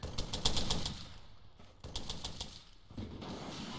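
A grenade machine gun fires in rapid bursts in a military shooter game, two close rattling volleys of quick evenly spaced shots separated by brief pauses, with ambient battlefield noise.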